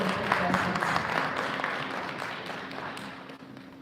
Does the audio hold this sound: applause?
yes